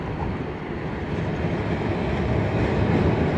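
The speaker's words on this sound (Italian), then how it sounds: "e ora i tram viaggiano vuoti o quasi" An empty city tram rumbles steadily along its rails, a dense, continuous rolling drone that grows slightly louder, with no voices.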